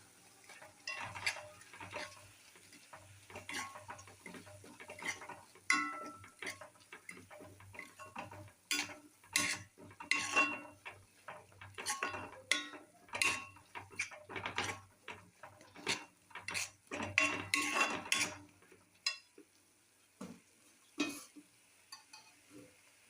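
A spoon scrapes and clacks against a pan as chopped coriander leaves are stirred into a simmering coriander thokku, irregular sharp knocks and scrapes in bursts over a faint low sizzle, with no talking.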